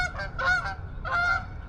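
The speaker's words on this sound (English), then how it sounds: "Those geese look like they're Canadian. They're following me." Canada geese honking outdoors at a hilltop park in Arizona, two loud nasal honks about three-quarters of a second apart, close by and clear with no talk over them.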